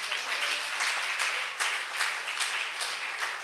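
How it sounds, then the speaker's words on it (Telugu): A church congregation claps together in a dense, sustained round of applause, fairly loud and close, with faint voices underneath. "చప్పట్లు కొట్టి దేవుని మహిమపడతాం."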